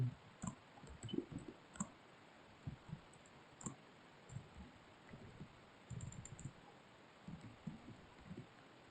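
Keys clicking on a computer keyboard while a command is entered during mobile app development, with soft, irregular taps scattered close by at a quiet level and no talking.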